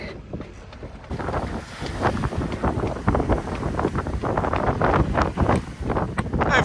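Steady wind rushes and buffets aboard a Hustler 30 sailboat under full sail, a loud, continuous roar with gusty rumbling that swells after the first second and stays strong throughout.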